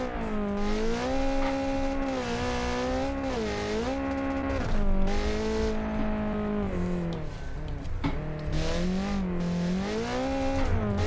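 A Group A race car in a racing video game, its engine droning loud and steady as it revs and climbs through the short gears, pitch rising and dipping with each shift, with no voices over it.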